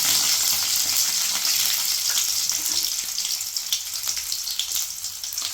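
About 25 to 30 large garlic cloves frying in hot oil in a pan, a steady bright sizzling hiss close up, continuous and fairly loud with light crackles and no talking.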